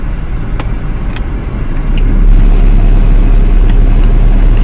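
A manual-transmission car pulls away uphill in stop-and-go traffic, its steady engine rumble rising and growing louder partway through as it moves off in first gear, with light traffic noise around it.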